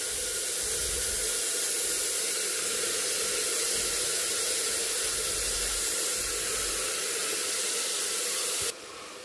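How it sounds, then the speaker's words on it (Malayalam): Sprouted moong beans hit a hot pan, setting off a loud, steady hiss of sizzling and steam that fills the whole stretch before dropping off sharply at the very end. "നമുക്ക് ഇനി പയറിട്ട് കൊടുക്കാം"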